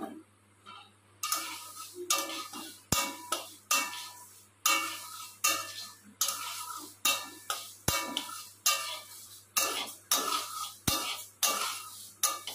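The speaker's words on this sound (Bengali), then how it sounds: "কড়াইটা আমার গরম হয়ে গেছে আমি এখন মুগ ডালটা ভেজে নেব" Moong dal being dry-fried and stirred in a hot kadai for vegetable khichuri, a steady run of close scraping and rattling strokes from the stirring spoon, with sharp ticks against the metal, and no talking.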